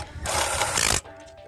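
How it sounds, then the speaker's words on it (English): A ratchet clicks rapidly for about a second, loud and close, while spark plugs are tightened on a 2015 Chrysler 200 with a 2.4-litre four-cylinder engine, then the sound stops abruptly. "Finger tight first and then tighten the rest down."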